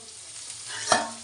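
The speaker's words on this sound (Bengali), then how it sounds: "কুমড়োটা ভেজে দিচ্ছি" Faint steady sizzling of pumpkin frying in a pan, with one soft scrape or clink near the end.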